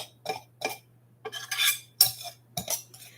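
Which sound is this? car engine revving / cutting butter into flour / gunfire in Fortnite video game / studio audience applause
cutting butter into flour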